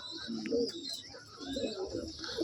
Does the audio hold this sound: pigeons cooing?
yes